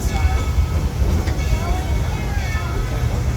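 Dollywood's Engine 70 steam train rolls slowly into the depot, with a steady low rumble of the cars and faint metallic squeals from the wheels on the track.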